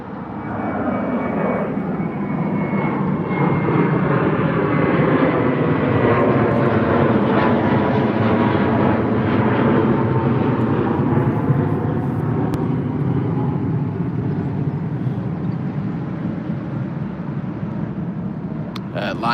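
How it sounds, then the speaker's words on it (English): A Finnair Airbus A321 takes off from Heathrow with a loud, steady jet engine roar that swells and holds for the whole stretch, then eases slightly toward the end. "Finnair A321 off to Helsinki."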